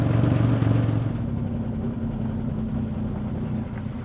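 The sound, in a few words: 1967 Chevrolet Corvair Monza Coupe engine running while riding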